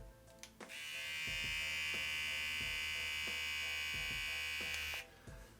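A Brio Axis beard trimmer fitted with a T-blade switches on and runs with a steady, close, high electric buzz for about four seconds, then cuts off, with a few soft handling clicks before and after.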